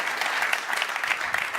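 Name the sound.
applause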